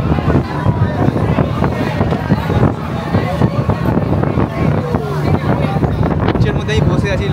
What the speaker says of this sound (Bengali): আমি এখন আছি লঞ্চের মধ্যে, আর আমাদের লঞ্চ ছেড়েই দিয়েছে